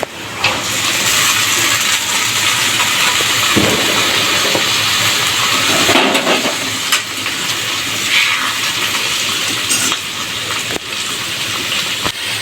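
Cowpea pods tipped into a pan of frying onion pieces set off a loud, continuous hissing sizzle that stays strong and close for the whole stretch, with no talking.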